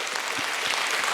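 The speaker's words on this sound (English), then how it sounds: "Please give the gentleman a round of applause." Audience applause at a gathering, a dense steady wash of many hands clapping, moderately loud and sustained throughout with no talking over it.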